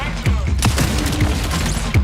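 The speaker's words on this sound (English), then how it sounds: "The arm cannon for Vandal unfolds" Vandal's arm cannon unfolding in Bungie's Marathon game, a loud run of heavy mechanical clunks and booming impacts over a dense, continuous bed of game sound.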